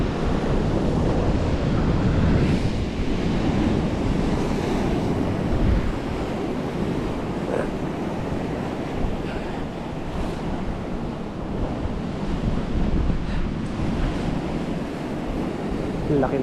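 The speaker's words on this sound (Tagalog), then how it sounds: "Grabe, sakto lang yung alon." Ocean waves wash continuously onto a beach, a steady broad roar of surf with gusty wind buffeting the microphone throughout.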